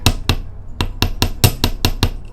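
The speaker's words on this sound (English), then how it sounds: "gently hammer" Small hammer tapping a wire earring on a steel bench block, about ten sharp metallic taps in a quick, fairly even rhythm, close and alone.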